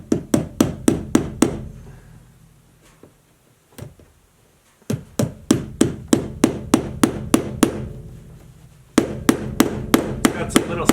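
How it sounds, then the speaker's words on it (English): A hammer drives a staple into a wooden stud while an electrical outlet is installed, a close series of sharp, rapid strikes in three bursts with short pauses and a single isolated blow between them. "I got my tack in place on the stud,"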